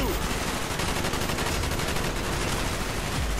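In the video game Call of Duty Black Ops, dense rapid gunfire bursts crackle continuously, a steady stream of automatic shots filling the whole moment with little letup.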